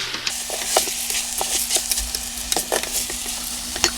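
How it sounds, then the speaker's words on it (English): Rice being stirred around a hot pan with a steady sizzle underneath and scattered scraping and stirring scrapes, close and moderately loud, with no talking. "Give that a bit of a stir around and let that get nice and mixed up."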